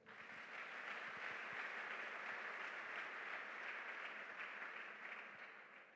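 A church congregation applauds in praise of the Lord, producing a steady, faint wash of clapping that holds evenly throughout with no voices over it.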